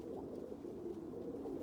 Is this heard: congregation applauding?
no